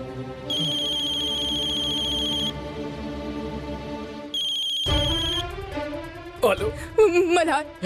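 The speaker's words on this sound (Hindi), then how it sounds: "लीला लगावा फोन।" A telephone ringtone chirps in repeated electronic bursts during a family drama, then stops as voices begin talking close by.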